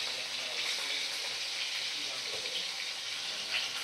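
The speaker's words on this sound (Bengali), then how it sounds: "মাছগুলো আমি উল্টে পাল্টে ভালো করে ভাজা করে নিচ্ছি" Fish fried in hot oil in a kadai, a soft continuous sizzle with light crackle, moderately quiet and steady, with faint watery sounds in the background.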